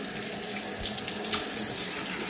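Water runs steadily from a small tap into a sink, a close, even hiss and splash with no voices.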